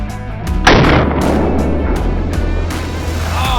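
A single loud shotgun blast rings out during a goose hunt, followed by a long rumbling decay over steady engine-like background noise.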